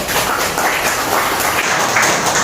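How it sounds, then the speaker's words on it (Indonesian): Students in a classroom applaud together: a loud, close wash of clapping continues throughout, uneven and busy, with no clear speech over it. "Tepuk tangan buat semuanya dong."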